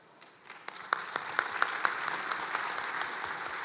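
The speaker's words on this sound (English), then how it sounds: "Love a clap." Conference plenary audience at a housing advocacy gathering breaking into clapping, starting with a few scattered claps that quickly build into moderate, steady applause from a large room.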